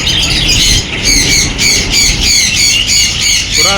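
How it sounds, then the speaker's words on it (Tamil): Caged birds squawking in a pet shop full of pigeon varieties, a loud, close run of repeated harsh calls in a steady rhythmic series over a constant background hum. "புறா வெரைட்டிஸ் தான் நிறையா இருக்குது"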